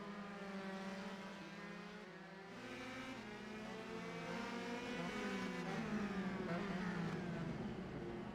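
Race cars lap the short oval at Martinsville, their engines a sustained, moderately loud harmonic whine that shifts in pitch as the cars accelerate and pass, with several cars overlapping.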